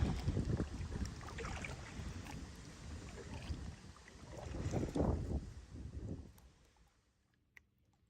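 Wind buffets the microphone while kayaking on Carters Lake, a loud, steady roar with gusts swelling midway before dropping off to near quiet at the end; no talk.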